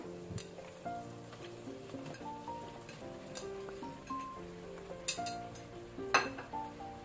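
Chopped country okra tips into a hot pan with hog plum for a Karnataka-style stir-fry, setting off a steady close sizzle with scattered clinks of a spoon and metal pan over faint background music.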